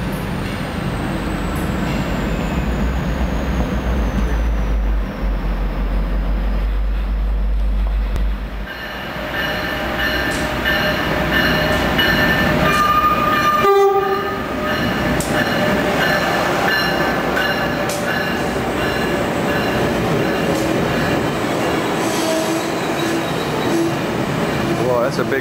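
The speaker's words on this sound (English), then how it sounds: "Well, that's a big train." A big train passing through Back Bay Station in Boston, MBTA commuter or Amtrak, with a loud sustained rumble, wheel squeal and clacking of cars rolling by, nearby, with a brief horn-like tone and occasional voices.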